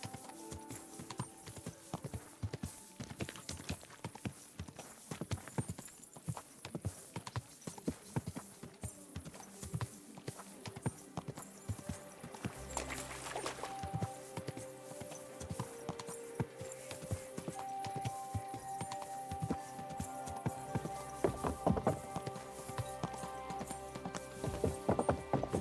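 A horse's hooves clip-clop in steady, rhythmic strides through a medieval game world in Kingdom Come: Deliverance II, continuous and fairly close, with sustained tonal background sound beneath the hoofbeats.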